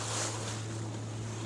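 Choppy Great Lakes water pushed by wind slaps and washes around a boat beside a large ship under repair, a constant rushing wash with wind buffeting the microphone and a low steady hum beneath.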